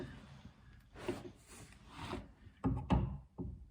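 Soft rubbing and scraping, followed by several crisp crunching snaps as a PEX cutter blade bites through PEX tubing, close by.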